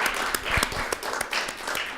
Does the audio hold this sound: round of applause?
yes